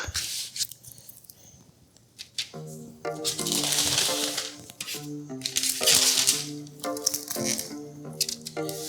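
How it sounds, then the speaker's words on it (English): Sticky caramel popcorn being spread onto a parchment-lined sheet pan, heard as bursts of crinkling, rustling and crunchy scraping with short pauses between, close by. "So now we're going to put the popcorn onto a sheet pan."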